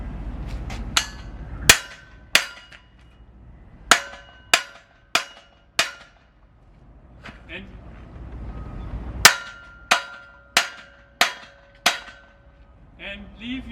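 Sharp hammer blows strike a wooden frame one at a time, loud and close, with gaps between them and a quicker run of hits near the end.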